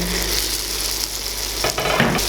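Pumpkin kadhi with turmeric is stirred in a hot pan, giving a steady close sizzle with a spoon scraping and clinking against the pan near the end; no one speaks.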